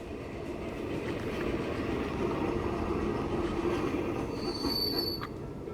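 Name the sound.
freight train running in the video game Transport Fever 2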